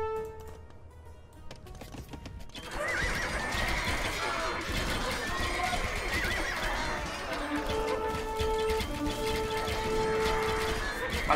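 Horses neigh and whinny amid clip-clopping hooves and busy battle ambience in Age of Empires II: Dynasties of India, with speech scattered over the game sounds throughout.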